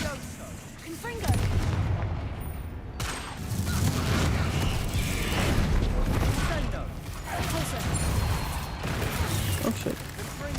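A Confringo spell blast erupts in Hogwarts Legacy, a loud, rumbling explosive burst followed by sustained booming, crackling fire over roughly ten seconds, with a voice talking over it.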